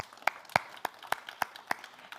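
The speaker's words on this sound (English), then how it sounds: "Let's clap her." Sparse, light hand clapping from a convocation audience, about seven separate claps in a slow, uneven rhythm, faint and somewhat distant with no voices.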